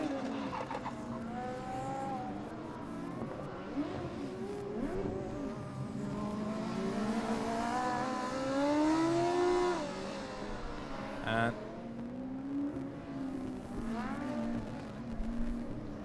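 Formula Student race cars lap the endurance track at FSG 2012 with engines revving up and down through gear changes, passes swelling as a car comes near, and a brief sharp burst partway through.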